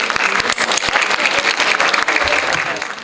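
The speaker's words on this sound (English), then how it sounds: "with a huge round of applause." An audience at an International Women's Day event applauds to welcome a speaker, brisk, dense clapping with sharp individual claps standing out, loud and continuous throughout.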